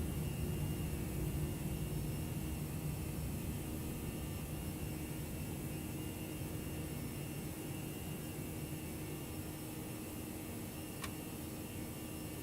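Steady airplane engine drone during takeoff in the flight simulator X-Plane 11, a constant even roar with a faint tonal hum, no pauses or talking.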